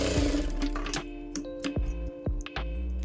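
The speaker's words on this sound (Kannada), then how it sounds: "ಹಾಗೆ ಇನ್ನೊಂದು ಸ್ಟಿಚ್ ಹಾಕೊಂಡ್ಬಿಡಿ." Domestic sewing machine stitching piping onto the neck of a katori blouse front, giving close, uneven mechanical rattling and clicking bursts with brief pauses between runs.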